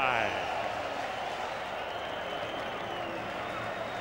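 Steady applause from a large NFL stadium crowd at the 2001 Ravens–Steelers playoff game, dense and even throughout, with crowd noise mixed in.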